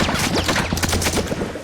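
Gunfire in The Last of Us, heard as a dense run of rapid shots and crackling bursts that stay loud and continuous across the moment, with no talking over them.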